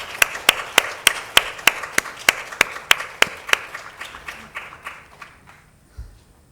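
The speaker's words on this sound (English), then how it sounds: "Please give them a big round of applause." An audience claps in a slow, regular unison rhythm to welcome speakers onto a stage, about fifteen sharp beats that gradually soften and thin out before stopping.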